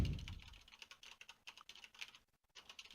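Quick, close typing on a computer keyboard, a rapid uneven string of light key clicks with a brief pause near the end, no voices.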